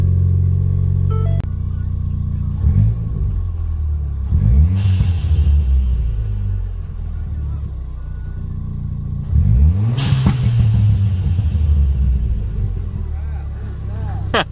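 A Ford Fiesta ST with a 3-inch catback and stock downpipe revs hard twice, each rev falling away into crackling exhaust burbles over a steady rumbling idle, close by.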